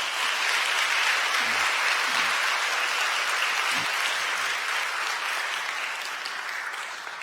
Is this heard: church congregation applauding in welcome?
yes